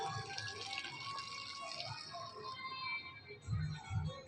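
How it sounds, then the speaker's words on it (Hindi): Water is poured out as a Hariyali Teej offering, a soft continuous trickle and splash at close range, with a couple of louder low thumps near the end and faint background voices. "सारा पानी हाँ चढ़ा दे।"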